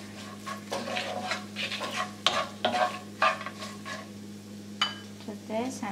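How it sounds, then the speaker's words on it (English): A spoon stirs cauliflower frying in oil and salt in a pan, giving a close scraping, rustling stir over a steady hiss and a low background hum, with no voices. "Give it a stir."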